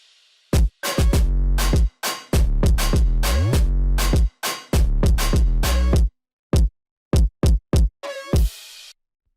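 A punchy moombahton drum pattern from a remix of a song hits loud and close. It has a heavy kick and booming 808 bass in stuttering bursts and sustained runs, then sparse single hits near the end.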